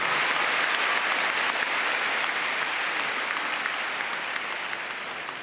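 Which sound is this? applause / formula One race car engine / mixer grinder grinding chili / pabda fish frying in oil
applause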